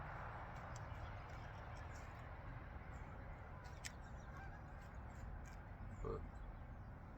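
Geese honk faintly in the distance outdoors, scattered short calls over a steady, hushed background murmur.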